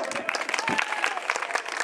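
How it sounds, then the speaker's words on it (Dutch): An audience breaks into applause for Theo Kuipers, a brief burst of dense, close clapping from a crowd with voices mixed in. "Mag ik even een applaus voor Theo?"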